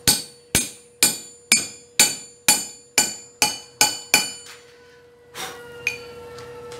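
A sledgehammer striking a metal piece on a small anvil: about ten loud, evenly spaced ringing blows, each decaying with a metallic tone, then a few quieter clinks as the work settles.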